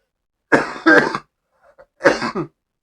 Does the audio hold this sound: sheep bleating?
no